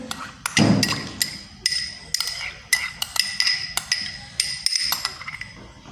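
A coriander paste marinade for chicken sajji is stirred in a bowl, giving repeated sharp clinks of a utensil against the bowl in an uneven rhythm. The sound is close and clear, with no talking.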